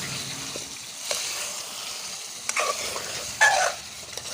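Potatoes fry in a pan for aloo pakora, with a soft steady sizzle broken by a few sharp scraping stirs and clinks of a spoon against the pan; no talking.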